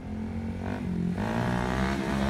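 A 2023 Honda Grom motorcycle ridden in third gear, its small engine droning steadily and rising slightly in pitch as it pulls along, close and fairly loud with no talk.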